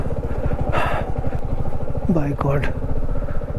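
Motorcycle running on a mountain road in the monsoon toward Tirthan Valley, its engine a close, steady pulsing thrum, with a rider's voice speaking briefly over it.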